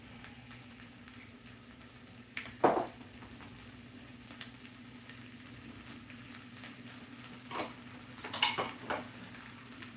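Ham frying in a pan, a quiet steady sizzle with a few sharp clinks and stirring scrapes of a utensil against the pan.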